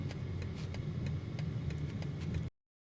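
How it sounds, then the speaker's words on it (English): The turn signal of a 2026 BMW X3 M50 clicks in a regular rhythm inside the cabin over a low engine and road hum, then the sound cuts off abruptly before the end. "You can hear the signal."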